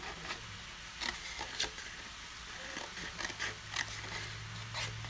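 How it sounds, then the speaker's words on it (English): Scissors cut designer series paper along a line for a Christmas craft project, giving a few soft, scattered snips and rustles close by over a quiet background. "But for the rest, we're just going to cut on the line."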